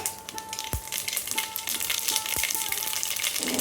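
Mustard seeds sizzling and popping in hot oil in a heavy-bottomed pan, a steady hiss with a few sharp pops and a faint tone running underneath.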